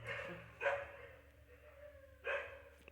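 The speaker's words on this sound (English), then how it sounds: "get your dogs in control, auntie" A household pack of dogs barks outdoors, with two distinct barks about a second and a half apart, fairly distant and faint over a low background hum, with no talking.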